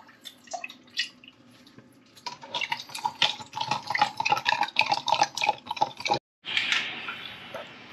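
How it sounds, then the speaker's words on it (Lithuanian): Honey-coated tools are rinsed in a container of water, giving a busy run of splashing, dripping and sloshing up close, then a brief pause and a steadier pour near the end. "Praplausiu visus įrankius čia, kas buvo, kas meduota yra dar tam pačiam vandenį"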